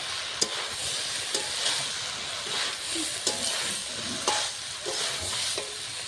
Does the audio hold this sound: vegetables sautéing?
yes